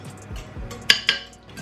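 Ingredients stirred together in a bowl with cinnamon and vanilla sugar for an apple cinnamon brioche, a few soft scraping strokes followed by two sharp utensil clinks against the bowl, close and alone.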